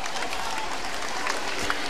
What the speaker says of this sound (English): The crowd here is going nuts for these Warriors.